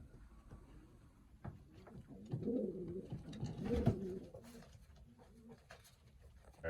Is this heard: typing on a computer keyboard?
no